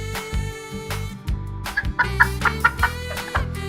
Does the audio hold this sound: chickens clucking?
yes